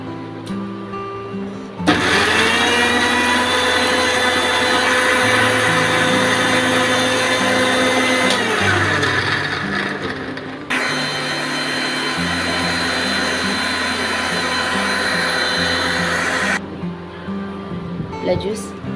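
A kitchen mixer grinder blends watermelon juice with black salt and water, its motor whirring loudly and steadily for long stretches, with shifts in pitch between runs before it stops.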